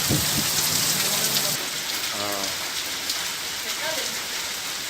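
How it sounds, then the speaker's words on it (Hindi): Heavy, steady rain during a spell of continuous downpour and waterlogging in Bettiya, Bihar, hissing evenly in the background while a voice speaks over part of it. "बेतिया जिला मुख्यालय में भी लगातार हो रही बारिश से जल जमाव है"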